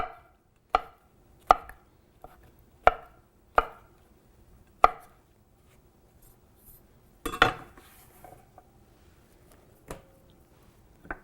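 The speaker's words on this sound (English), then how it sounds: "We're just gonna very roughly chop them up so that they cook fairly evenly." A knife roughly chops shiitake mushrooms on a cutting board, six or seven sharp, uneven strikes with pauses between, fairly close and quiet otherwise.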